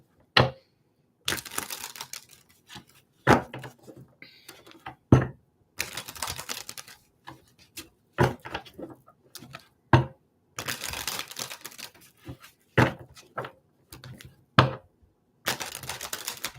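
Tarot cards shuffled by hand during a live psychic reading: several bursts of quick riffling, each set off by sharp taps and clicks, close and clear in a quiet room with no talking.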